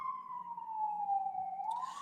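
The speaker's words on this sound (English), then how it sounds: "please disregard the police sirens in Parkdale" Police sirens in Parkdale carry in through an open window: one fairly faint, distant wail that slides down slowly and then begins to rise again.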